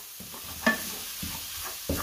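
A spoon stirs tomato puree into a beef curry frying in a pan, giving a few soft scraping, sloshing strokes at a steady rhythm over a low background sizzle, close and fairly quiet with no talking.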